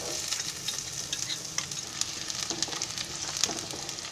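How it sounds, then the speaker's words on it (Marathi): Chopped onion dropped into about 100 grams of hot oil with bay leaf for tempering, for moth bean rice, sizzles loudly and steadily at close range with small crackles and stirring scrapes, and no talking. "आणि हा कांदा घेतलाय फोडणीसाठी, तो टाकते"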